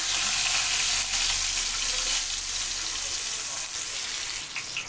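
Chopped onion with cumin and mustard seeds sizzles in hot oil in a bowl, a steady close frying hiss with faint stirring and no talk.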